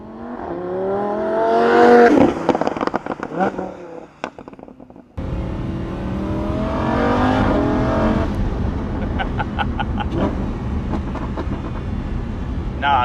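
A Lamborghini Huracán engine revs loudly up close, with rising and falling harmonic sweeps, a sharp cut, then a sustained roar carrying on through the rest of the clip.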